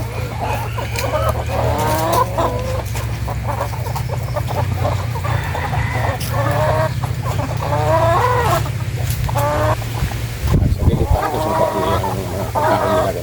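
Several chickens cluck and chatter continuously nearby over a steady low hum, with a brief louder squawk near the end.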